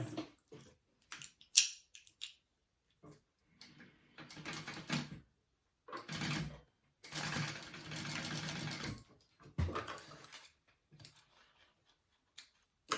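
Sewing machine stitching a zipper sandwiched into a 5/8 inch seam on a tote bag, running in several short bursts and one longer steady run with quiet pauses between.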